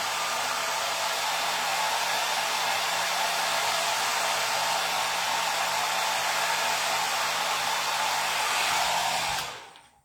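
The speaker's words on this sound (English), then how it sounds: "Heating up the hair right down to the cap with the blow dryer." A hair dryer blows steadily at close range, heating a wig, a loud continuous whoosh that holds for several seconds before switching off abruptly.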